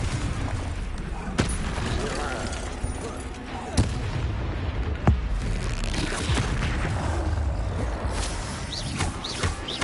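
Spell blasts and explosions in the Hogwarts Legacy video game, sharp booming impacts cracking out at irregular intervals over a dense, rumbling battle din.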